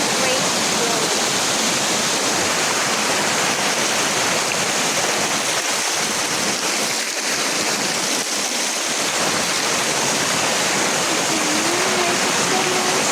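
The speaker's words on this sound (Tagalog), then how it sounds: "Falls is my happy place." Waterfall at Mandayao Waterfalls Eco-adventure Park, a steady, loud broadband roar of falling water that fills the whole stretch without pause, close and constant from start to finish.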